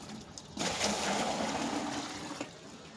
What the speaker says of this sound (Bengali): তাতে প্রথমে 10 লিটার জল নেওয়া হলো।